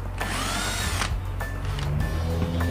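A Bosch cordless drill drives a screw into a workpiece, close and loud, with short revving whirs and a rising whine, then brief bursts with clicks between them, and no talking.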